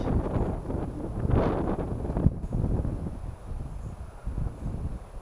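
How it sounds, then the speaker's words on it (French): Low, rumbling wind buffeting the microphone steadily throughout, outdoors on rocks during an RC crawler run, with a brief dropout midway and no talking. "Ah, désolé, il y a du vent."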